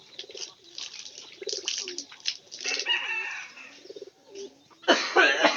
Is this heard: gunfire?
no